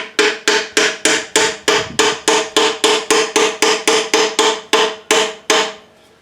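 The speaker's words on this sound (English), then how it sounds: "there's a pin right through where you see me hammering that holds the center stand on" A hammer strikes the pin holding the center stand on a 1969 Yamaha Trailmaster 100 YL2 motorcycle, about seventeen sharp metallic blows in a steady, fast rhythm, loud and close, with no talking.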